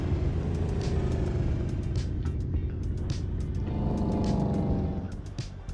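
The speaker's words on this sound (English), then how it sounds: "That's a nice muscle car." A muscle car in the city-builder game Cities Skylines 2 drives through a steady, loud engine drone that shifts pitch partway through, then fades slightly near the end, with no talking.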